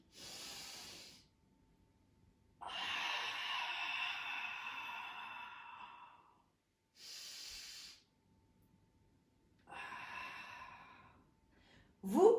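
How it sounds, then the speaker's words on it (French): Thoracic breathing during a Pilates exercise: four slow, close, airy breaths, alternating longer hissing exhalations with shorter inhalations, separated by quiet pauses, and a brief voiced sound at the very end. "Je prends une inspiration thoracique."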